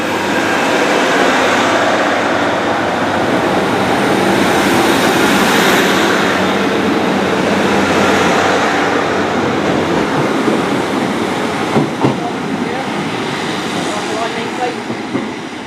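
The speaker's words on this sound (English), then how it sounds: "about to go out now is one part of the KTV Express" Great Western Railway KTV Express train departing Liskeard station, a loud, continuous rumbling roar of engine and rolling wheels with faint clatter late on, heard close throughout.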